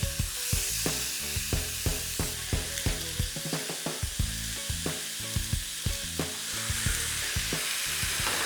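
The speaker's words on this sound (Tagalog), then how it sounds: "Prito na natin sa 2 pan." Beef slices for Filipino bistek sizzle and crackle steadily in two hot frying pans, a loud, close, continuous hiss broken by frequent sharp pops and spatters, with no talking.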